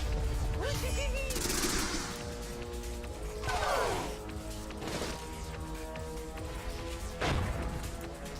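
Missiles launching in the turn-based strategy game Tiny Metal, with several whooshing, crashing bursts spaced a couple of seconds apart over steady background music, and a brief voice line near the start.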